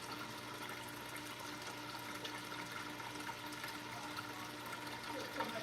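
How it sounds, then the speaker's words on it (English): A low-level suction pump in an aquarium moves water with a faint, steady gurgling hum and bubbling flow, continuous throughout. "This low level suction pump can help out a ton when it comes to having that proper water flow"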